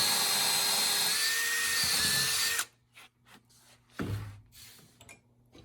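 A power drill bores holes through wood for an Adirondack chair, running loud and steady for a couple of seconds before cutting off, followed by quieter knocks and handling of the workpiece.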